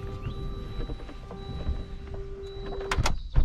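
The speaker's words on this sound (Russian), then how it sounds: "Нажимаем кнопочку и закрываем дверь." A power sliding door on a Citroen C8 minivan closes with a steady motor whine, then shuts with a firm thump near the end, close and fairly loud with no talk over it.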